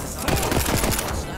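A burst of rifle fire in Black Ops 3, with several rapid, closely spaced shots over about a second that ring out loud and near above low background noise.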